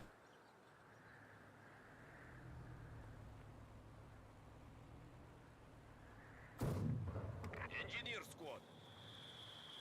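A 120mm mortar fires in the Company of Heroes 2 video game, one sharp blast followed by a short rumbling tail. Quiet game ambience and a faint voice play underneath.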